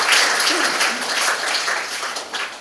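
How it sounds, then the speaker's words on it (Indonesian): Audience applause at a university student organisation's talk show, dense steady clapping from a crowd that fades slightly toward the end. "Tepuk tangan untuk Pak Ade yang para sangat luar biasa."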